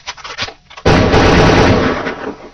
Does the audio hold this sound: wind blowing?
no